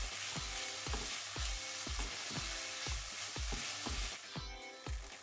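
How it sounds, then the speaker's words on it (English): Spätzle fry in butter in a pan over medium heat, with a steady close sizzle and rhythmic stirring scrapes and clicks about twice a second, with no talking. "Fry spätzle with 1 tablespoon of butter on a medium heat for 1"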